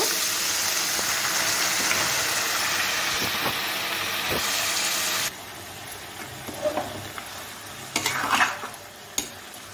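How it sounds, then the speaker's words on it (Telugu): One kilo of washed mutton goes into a pot of softening onions: a loud, steady sizzle drops off abruptly partway through, followed by scattered stirring scrapes and clinks. "అలాగే ముందుగా కడిగి పెట్టుకున్న కేజీ మటన్ అయితే వేసేసుకుంటున్నాను ఇందులో"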